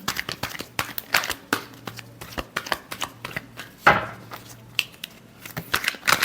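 A deck of tarot cards being shuffled during a weekly Gemini horoscope reading, quick irregular riffling clicks and soft slaps at close range, with no talking.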